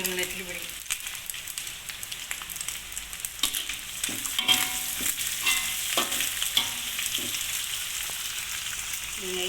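Anchovies deep-frying in hot oil give a steady, dense sizzle with crackling bursts and occasional stirring clatter, fairly close; brief spoken remarks may sit faintly over the bubbling.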